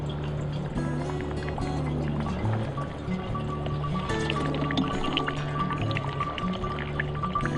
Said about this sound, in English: I'm going to go ahead and start pouring in some of this water